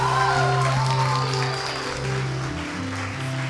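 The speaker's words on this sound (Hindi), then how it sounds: "बहुत सारी तालियां, बहुत सारी तालियां, बहुत सारी तालियां" A studio audience on a TV morning show claps with sustained applause, while steady tonal music or hum runs underneath and fades slightly toward the end.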